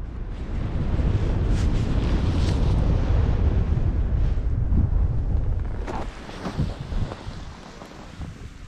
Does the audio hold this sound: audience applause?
no